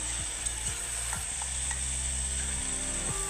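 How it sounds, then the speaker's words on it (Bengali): Mixed vegetables frying in a pan, a steady sizzle with a constant hiss, and repeated low scraping strokes of stirring. "পাশে আমি সবজিগুলো ভেজে নিচ্ছি।"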